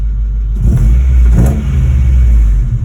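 Honda Integra engine blipped with a few quick throttle stabs, a loud, close rev swelling once and then holding at a steady, rough hum with no talk over it.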